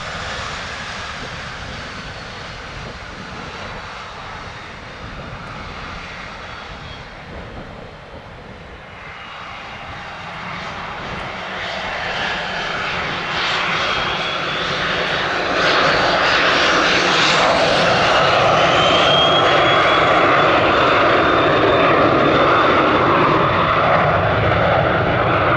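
Business jet or general aviation aircraft taking off from runway 26 left at Spirit of St. Louis Airport in the evening, engine roar building steadily from a distant hum to a loud, sustained near roar with a rising whine.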